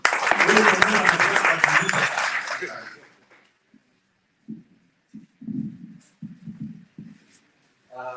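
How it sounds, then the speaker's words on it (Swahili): A crowd at a public gathering in Narok County claps loudly for about three seconds before the applause dies away, followed by scattered low voices talking. "Pigeni makofi"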